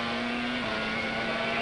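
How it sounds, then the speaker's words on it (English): A 1994 Formula 1 car with a rough, sick-sounding engine drones steadily at a distance, its buzzing tone dipping slightly in pitch as it passes, with no talk over it. "there's one car around that group where Brundle is driving that's got a fairly sick engine note"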